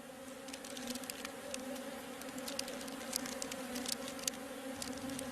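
Honeybees buzzing inside a hive, a dense, continuous drone of many insects holding steady throughout, close and fairly loud, with no voices.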